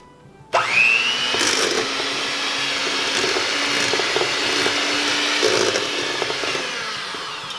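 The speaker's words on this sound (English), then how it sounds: "now let's get the blender and whip it up" A blender kicks on abruptly and runs on slow speed with a steady, whirring roar, holding constant close by until fading slightly at the end.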